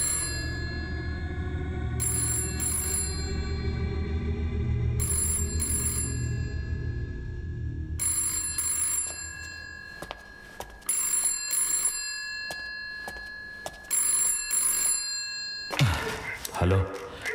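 Landline telephone bell ringing in repeated bursts, a bright metallic trill starting and stopping in an even rhythm, first over a low rumble and then over a busier, clattering background.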